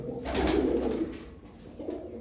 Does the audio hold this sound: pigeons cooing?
yes